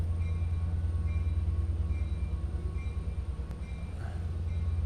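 Long Island Rail Road train 8710 standing at Mastic-Shirley station: a steady, loud low rumble of the train, continuous and near, with faint higher tones drifting above it.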